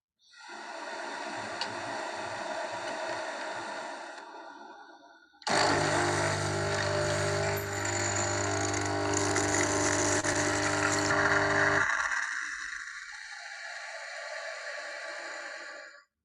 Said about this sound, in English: I want to invite you to listen to this coffee maker